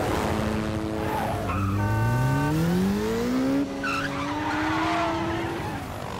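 A car with a manual gearbox pulls away on a hill, its engine note rising steadily as it strains, with a higher squealing tone over it and a brief vocal sound partway through.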